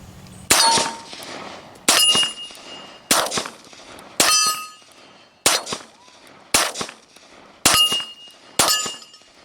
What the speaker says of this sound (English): the trigger pops forward, and we shoot